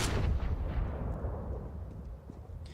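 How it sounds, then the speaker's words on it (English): Heavy gunfire bursts in a Counter-Strike match, loud and dense with booming low-end reverberation that gradually tails off, no voices present. "Brokey misses a shot narrowly."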